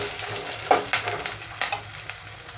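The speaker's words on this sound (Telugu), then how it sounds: "ఇప్పుడు మనం అందులోనే పచ్చి మొక్కజొన్న గింజలను వేసుకున్నాము. నూనెలో 1 నిమిషం వేయించుకున్నాము." Raw sweet corn kernels fry in oil in a pan for a capsicum sweet corn curry, giving a faint steady sizzle with a few sharp stirring scrapes and clicks, no voices.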